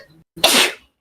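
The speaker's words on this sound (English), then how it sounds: "Oh, sneezing still." A single sharp sneeze close by, a quick breath in, then a loud burst that fades fast.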